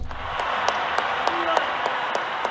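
Applause at a Colombian presidential inauguration, a steady crowd clapping with scattered sharper claps, while a voice speaks over it.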